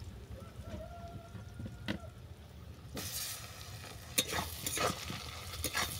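Chopped tomatoes drop into potatoes browning in mustard oil, and the quiet background of the pan flares into a louder, crackling sizzle marked by a few sharp spatters and scrapes.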